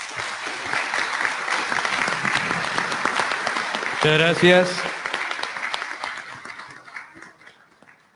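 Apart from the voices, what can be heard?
audience applause at a forum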